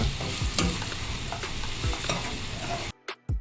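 Paneer cubes fry and are stirred in a pan for a Kuwait-style paneer curry, a steady close sizzle with scraping spatula strokes, stopping abruptly near the end with a couple of brief bursts.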